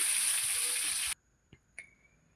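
Shrimp frying in hot oil, a loud steady sizzle that cuts off abruptly after about a second, followed by quiet with a couple of small clinks and taps, close up with no talk.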